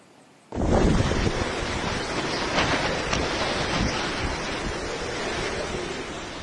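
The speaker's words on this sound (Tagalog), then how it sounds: "Sabay sa malakas na buhos ng ulan, ang hangin tila nagpasayaw sa mga puno sa Dinapigue, Isabela." Typhoon Paolo brings strong wind and heavy rain to Dinapigue, Isabela, as a sudden, steady roaring wash of wind and downpour that stays loud and unbroken throughout, with no voices.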